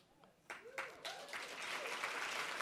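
An audience at a fundraising breakfast bursts into applause, building from scattered claps into a steady, dense round of clapping that continues to the end.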